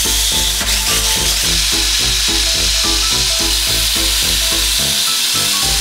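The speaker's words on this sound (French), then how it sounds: "on fait griller les épices à feu moyen pendant 2-3 minutes" Spices dry-toasting in a pan over medium heat give a steady, fairly loud sizzling hiss that runs throughout beneath a rhythmic music beat.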